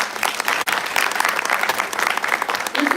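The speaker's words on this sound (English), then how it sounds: "A big clap for this guy" Sustained audience applause in a conference hall, dense continuous clapping from a large crowd, loud and steady for the full three seconds with no talk over it.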